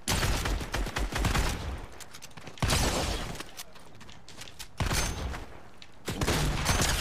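SMG gunfire in the Fortnite video game comes in loud, rapid bursts separated by short pauses, with dense crackling shots and impacts and no talking.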